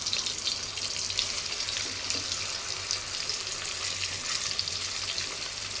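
Halved boiled eggs fry in hot oil with turmeric for an egg and potato curry, a steady, dense crackling sizzle that goes on without a break, close by with no voices.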